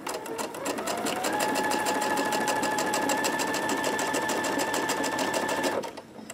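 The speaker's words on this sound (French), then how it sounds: "Et vous cousez." A sewing machine stitches square pieces of quilt fabric in a steady, fast mechanical whir that runs loud and close for about six seconds before stopping.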